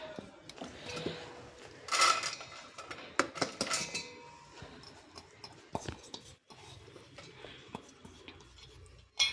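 Soaked poha (flattened rice) tipped into a bowl in a home kitchen, with soft clinks and scrapes of utensils against dishes scattered through, a few sharper taps standing out; no talking.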